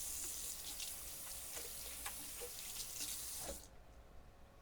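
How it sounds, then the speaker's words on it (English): Water runs steadily from a tap as hands are washed under it, a continuous close splashing hiss that cuts off abruptly near the end. "gotta wash my hands"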